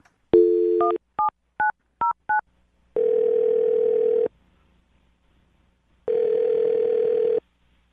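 A telephone dialing a call: a quick series of touch-tone beeps, then two long, steady ringback tones separated by silence, clear and close with no talking.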